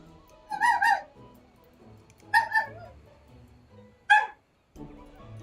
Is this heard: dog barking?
yes